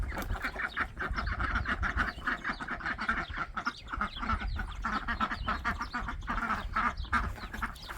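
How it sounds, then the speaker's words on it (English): Backyard chickens and other fowl cluck and squawk continuously at close range, a dense, busy chorus of overlapping calls with no pauses. "I had to go visit with the chickens."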